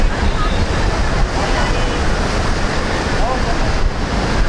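Sea waves surge at a Mumbai beach, a loud continuous wash of surf mixed with wind buffeting the microphone, steady and close for several seconds.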